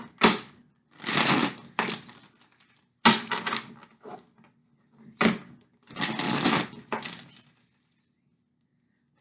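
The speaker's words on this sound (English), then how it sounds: "Kind of peter out toward the end of the shuffle there." Tarot cards are riffle-shuffled in quick papery bursts, several separate rattling flurries with short pauses between, close and crisp, trailing off toward the end.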